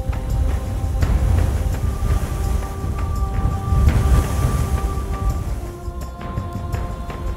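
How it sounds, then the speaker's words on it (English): Strong desert wind roars steadily, blowing sand in a continuous dense rush with low gusty rumble, loud and close throughout. "The winds in desert areas can be so fierce that you need to shelter from the moving sand."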